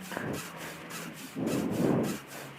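Video-game hacksaw cutting metal: back-and-forth sawing strokes, rough and scraping, with a stronger burst of grinding strokes near the end, heard close and without talk.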